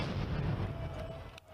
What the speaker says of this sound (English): Police fire tear gas at protesters in the centre of Paris.